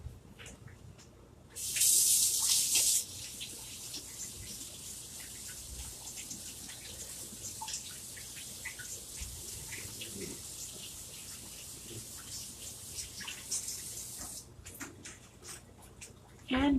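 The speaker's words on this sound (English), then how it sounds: "wash off the palette knife." A palette knife rinsed under a running tap, with a loud burst of spraying water early on, then a softer steady trickle with drips and clinks before the flow cuts off.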